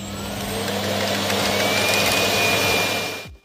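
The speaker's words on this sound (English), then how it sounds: "At the end of a clean, it'll actually go back to the base and empty itself out to vacuum all of its contents into the" Roborock S7 MaxV Ultra base station sucking out the robot vacuum's dustbin, a loud, steady motor roar with a high whine, holding for about three seconds before cutting off abruptly.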